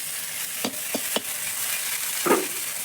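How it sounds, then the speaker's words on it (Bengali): Chicken chow mein frying in a pan over a wood-fired stove, with a continuous close sizzle broken by a few sharp stirring knocks and a scraping toss. "এই চাউমিনটা ভালো করে ফ্রাই করে নেব।"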